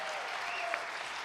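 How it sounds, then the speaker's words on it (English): Audience applause at a live farm-and-music livestream show, a steady, fairly soft wash of clapping from a crowd that holds evenly for over a second. "Give him a round of applause."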